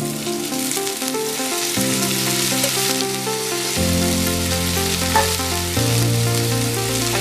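Chopped fenugreek leaves frying in a pan with salt and turmeric, a loud steady sizzle and crackle under continuous musical tones, close and unbroken.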